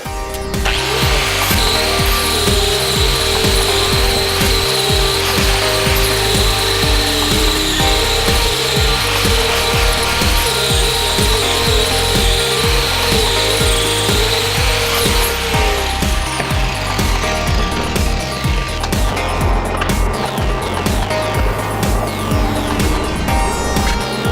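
An 80 grit grinder smooths a weld seam on a boxed rear lower control arm for a 1964–1972 GM A-body car. It gives a loud, continuous whirring grind with a high whine for about fifteen seconds, then rougher rattling contact.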